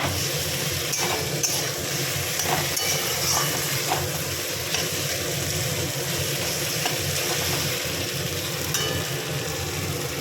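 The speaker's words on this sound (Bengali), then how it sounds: "একটু মাথাটা এর সঙ্গে একটু ভাজা ভাজা করে নেবো" A fish head fries in spiced masala for a fish-head dal, a steady close sizzle with occasional stirring scrapes and no talking.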